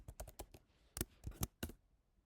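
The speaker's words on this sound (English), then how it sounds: "So I have to tap my right password" Password keys tapped on a computer keyboard: a quick run of about ten sharp, close clicks in irregular bursts, with short pauses between groups and no talking.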